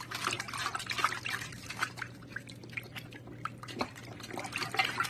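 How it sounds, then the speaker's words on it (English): Egg-crate filter media from a SunSun 704-B aquarium canister filter is rinsed in water, giving a continuous close splashing, dribbling and trickling over a steady low hum. "I'll just rinse those out"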